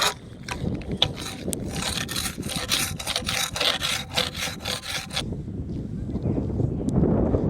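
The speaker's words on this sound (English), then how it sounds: "I'm all done scraping this post" Rough, steady scraping strokes on an old, porous wooden porch post, a rapid run of rasping passes that continues for about five seconds and then stops, leaving a quieter background.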